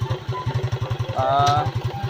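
A motorcycle engine idling close by, its steady rapid thumping pulse loud and continuous throughout, with a brief higher-pitched tone rising over it midway.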